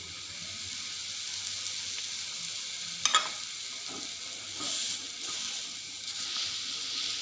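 A damti flatbread roasts in oil on a pan, giving a continuous gentle sizzle with occasional scraping clicks from turning or pressing, close by and with no talk.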